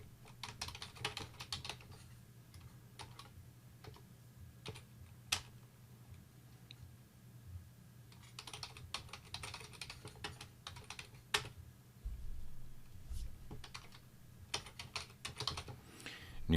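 Fast, light keystrokes on a computer keyboard come in quiet bursts of clicks with short pauses between runs, close by and fairly soft, with no talking.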